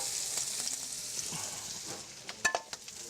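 Mushroom stems fry on a hot plancha griddle, giving a soft steady sizzle with a few sharper crackles and scraping taps near the end.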